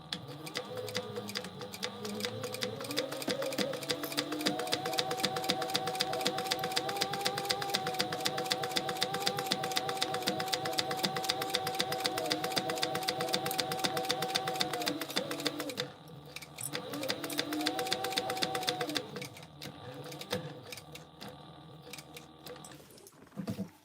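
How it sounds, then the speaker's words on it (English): Sewing machine top stitching a tote bag, a steady rapid mechanical whir with a fast ticking pulse that runs for a long stretch, stops briefly, then starts again. "let's top stitch this"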